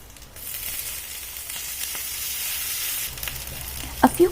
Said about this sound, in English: Using the same pan continuously, I add in a tablespoon of ghee, mustard seeds, chana dal, urad dal, red chili, green chili, ginger